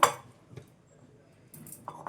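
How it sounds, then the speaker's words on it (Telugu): A mixer grinder jar handled on a kitchen counter while preparing soaked poha with curd: a sharp clink at the start, a faint knock, then a cluster of small hard clatters and taps near the end. "ఇప్పుడైతే ఒక మిక్సీ జార్ తీసుకుందాం"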